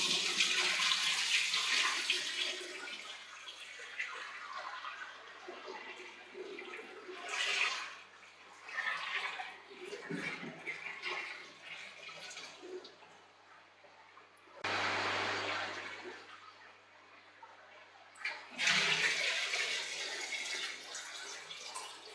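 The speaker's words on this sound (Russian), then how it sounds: "Теперь просто выливаем в банку и запускаем ее." Water holding small aquarium fish is poured into a jar, a sustained splashing gush that fades and resurges in several bursts, with brief quieter gaps between pours.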